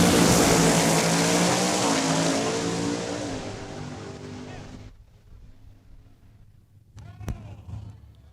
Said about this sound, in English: you hear the turbos kicking up